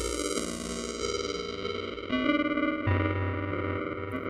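ToneBoosters BitJuggler vintage digital effect with resonance processing a sustained musical sound, giving a gritty, distorted, bit-crushed timbre with ringing resonant tones shifting in pitch, played alone without talk.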